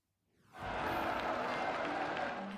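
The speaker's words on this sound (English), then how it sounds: "Applause and cheers for Pope Leo XIV, the first ever American pontiff, as he made his way through St. Peter's Square" A crowd in St. Peter's Square applauds and cheers for Pope Leo XIV, the first American pontiff. The sustained roar swells in quickly and holds steady as a dense, distant wash of clapping and voices.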